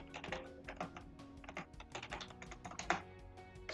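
Close, quiet keystrokes on a computer keyboard as a git log command is entered, a quick irregular run of light clicks and taps with a slightly heavier key press near the end.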